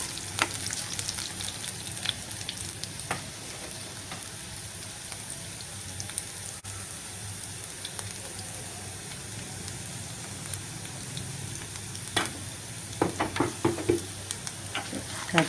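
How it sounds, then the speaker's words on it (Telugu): Chopped garlic and ginger fry in oil in a pan for a red chili momo chutney, a steady loud sizzle with occasional crackles and stirring scrapes throughout. "ఇవి కొంచెం వేగనిద్దాం. ఒక నిమిషంలో ఇవి వేగిపోతాయి."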